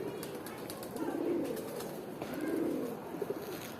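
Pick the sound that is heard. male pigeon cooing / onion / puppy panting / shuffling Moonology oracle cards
male pigeon cooing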